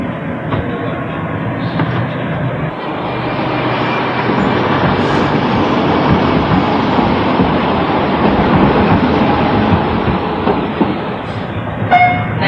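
A Sheffield tram in a train simulator game rolls along its rails with a steady, loud rumble and faint rhythmic clatter, growing slightly louder and ending in a brief higher squeal.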